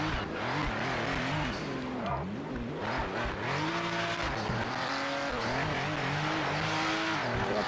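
A Porsche race car engine in a racing video game revs and climbs through the gears, loud and close, with rising and falling pitch sweeps and brief tire squeal; a voice talks faintly underneath.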